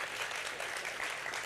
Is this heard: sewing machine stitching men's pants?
no